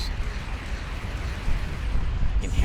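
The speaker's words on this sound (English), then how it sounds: "Oh, look at the giant explosions." Giant explosions in the space game Starcom Nexus, a continuous deep rumbling roar with heavy low-end booms swelling slightly toward the end, loud and without speech.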